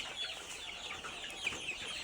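Brown cocks on a hobby poultry farm in Keraniganj, Dhaka, clucking softly over a steady background hiss, with a few faint, higher calls mixed in.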